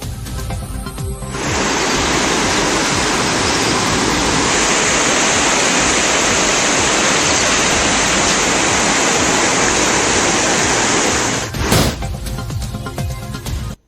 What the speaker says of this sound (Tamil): மாயாற்றில் வெள்ளம் கரை புரண்டு ஓடுகிறது